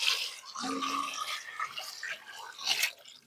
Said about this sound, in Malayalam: കുറച്ച് വെള്ളം എടുത്തിട്ട് നമുക്ക് മാങ്ങയ്ക്കകത്തോട് ഒഴിച്ചു കൊടുക്കാം